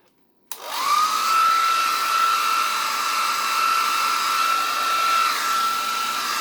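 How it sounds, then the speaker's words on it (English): A hair dryer switches on abruptly and blows steadily with a loud whooshing roar and a high whine, running continuously close by. "just to show you what I'm doing with the hairdryer."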